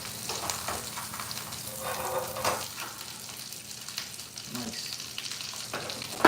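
Chicken souvlaki sizzles and crackles steadily in a hot pan, with occasional scraping and stirring sounds, close by and at moderate volume.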